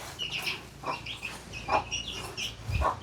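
A chicken clucks and calls close by in several short, separate bursts over a quiet background.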